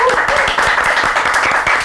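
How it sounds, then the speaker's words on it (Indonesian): Quick clapping from a small group of podcast studio guests and hosts, a dense close patter of hand claps with voices mixed in. "Tepuk tangan dulu."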